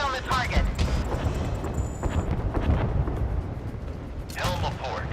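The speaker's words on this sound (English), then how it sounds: "Missile launched at target. Fire on command. I see a hit on the target." Missile strike exploding on a target in the naval combat game Force of Warships, a loud booming burst with rumbling debris, accompanied by mechanical clatter and a synthetic radio-style voice.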